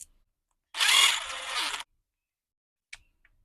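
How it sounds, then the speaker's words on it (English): A power drill drives screws into a rebuilt carburetor on an Echo PB-250 leaf blower, one close, steady whir lasting about a second, followed later by a couple of faint clicks. "So get these screws in, hold it in place."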